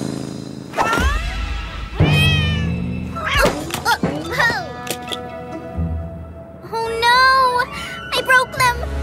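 A cartoon cat meows several times in rising, wavering cries, mixed with thumps, whooshes and bright musical effects in an animated children's road trip show.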